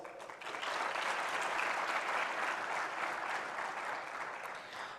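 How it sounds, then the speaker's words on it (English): An audience at an evening finance and development dialogue gives a sustained round of applause, a dense, even wash of clapping that swells quickly and holds steady, heard at some distance. "Can we have a round of applause?"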